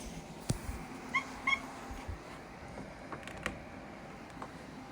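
A cat gives a couple of faint, brief meow-like calls against a quiet indoor background, with a few soft clicks and thumps around them.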